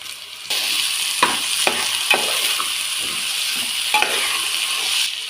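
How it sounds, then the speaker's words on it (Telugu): Vegetables for a veg biryani fry in hot oil, and capsicum is tossed in with a burst of sizzle. A few sharp stirring knocks cut through a steady, close hiss. "ఇప్పుడు క్యాప్సికమ్ వేసుకోవాలండి."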